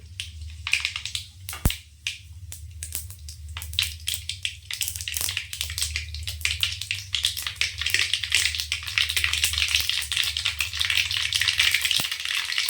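Mustard seeds and urad dal crackle and pop in hot oil in a kadai, a busy stream of sharp spits and snaps that grows denser over time, close and alone.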